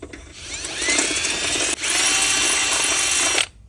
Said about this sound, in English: So we're gonna go ahead and drill this out.